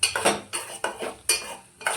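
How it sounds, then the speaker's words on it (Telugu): Metal spoon scraping and clinking in a pan while potato fry is stirred with turmeric, four distinct bursts of stirring in a steady rhythm, close and fairly loud with no voices. "పసుపు వేసుకొని మొత్తం తిప్పుకుంటున్నాను."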